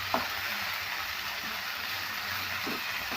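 Fenugreek leaves and stems fry in oil in a pan, giving a steady close crackling sizzle with a few faint stirring scrapes and no voices.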